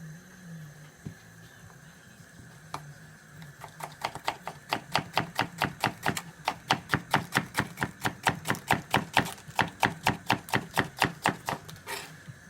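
A thin knife chops peppers on a board, quiet at first, then settling into a fast, even run of crisp taps for several seconds, close and clear with no talking.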